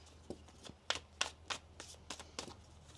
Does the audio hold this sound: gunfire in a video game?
no